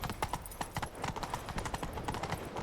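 Hooves of a horse galloping in The Witcher 3 beat in a quick, steady rhythm of close, sharp clip-clops, with no speech over the galloping.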